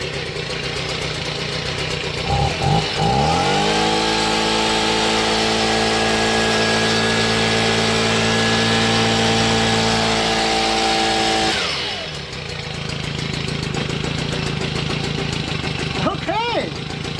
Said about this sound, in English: Look at that idle, too.